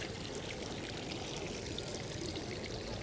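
Water pours steadily at Munich's Viktualienmarkt outdoor market, a continuous soft splashing rush that is fairly quiet and unbroken for a few seconds.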